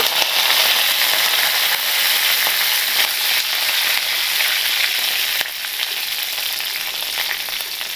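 Mustard seeds, cumin, dried red chillies and curry leaves sizzle steadily in hot oil for a Kerala tamarind curry, a dense close crackle that runs without a break and eases slightly toward the end.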